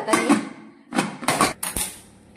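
Metal clattering and clanking as a lid is set onto a pressure cooker of chickpeas, several sharp knocks in quick succession, close by with no voices.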